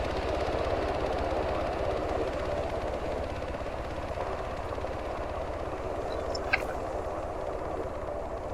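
A helicopter in Arma 3 drones steadily throughout at a constant, moderately loud level, with one brief sharp click near the end.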